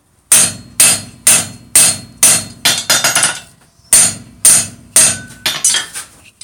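Hammer striking a cold rivet to join two halves of blacksmith tongs, a string of loud, close metallic blows in an even rhythm with a brief pause midway and a few quicker double hits, no talking.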